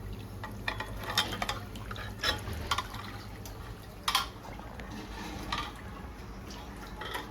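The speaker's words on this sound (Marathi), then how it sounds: "आता हे पाणी टाकून परत याच्यात गरम पाणी टाकून मी धुणार आहे" Soft splashing and trickling of water, with irregular sloshes and drips as tripe is rinsed and handled nearby, fairly quiet.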